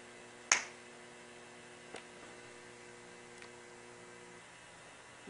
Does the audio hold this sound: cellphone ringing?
no